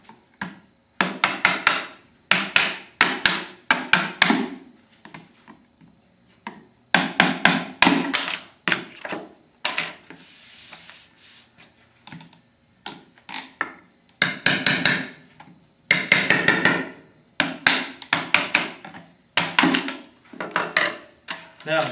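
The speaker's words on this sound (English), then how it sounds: "So you remove all the beads." Glazing beads being pried and tapped out of a vinyl window sash, giving repeated clusters of sharp knocks and clicks in rhythmic bursts with short pauses, close and fairly loud, with no talking.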